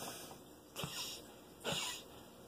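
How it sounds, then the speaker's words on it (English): Two harsh, breathy coughs burst out about a second apart over a faint background hum, fairly quiet and close. "I've been coughing like this."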